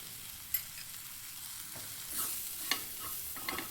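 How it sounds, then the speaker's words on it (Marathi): Cluster bean vegetable being sautéed in a pan with coarsely ground peanut powder, giving a faint, steady sizzle under a few soft stirring scrapes and light clicks of the spoon, with no one talking. "भाजी छान दोन मिनटं परतून घ्यायची त्यामध्ये थोडासा दाण्याचा कूट टाकायचा"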